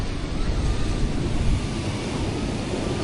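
Strong steady wind buffeting the microphone at Flagler Beach, a continuous loud low roar with the surf blended in, no clear talk.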